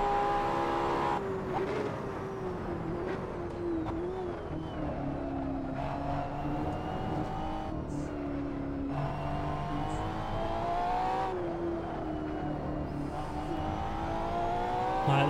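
Ferrari hypercar engine in the racing game Assetto Corsa, a steady loud drone with rising and falling revs through gear changes, continuous for the whole stretch with no talk over it.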